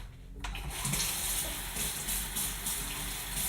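Asparagus rinsed under a running kitchen tap, with a steady close rush of water that starts abruptly and keeps splashing and gushing without a break.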